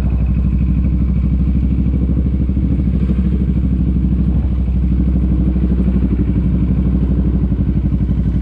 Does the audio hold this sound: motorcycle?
yes